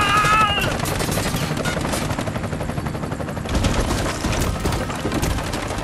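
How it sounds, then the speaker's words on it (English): Rapid, continuous automatic gunfire in the video game Bright Memory Infinite, loud crackling bursts stacked densely with explosive thumps, chaotic and sustained throughout with no voices. "I'm under heavy fire."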